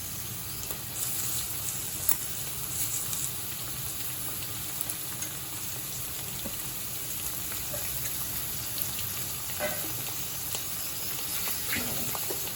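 Chopped tomato and green chili frying in a pan for homemade chowmein, a steady soft sizzle and hiss running evenly throughout at moderate level, with no talk.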